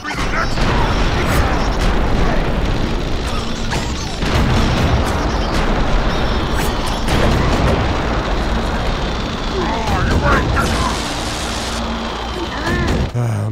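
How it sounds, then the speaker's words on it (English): In the game Oddworld: Stranger's Wrath, a boss fires missiles, producing loud repeated booms and crashing blasts that roll over each other, with game sound throughout. "we're gonna have this guy shoot missiles at you"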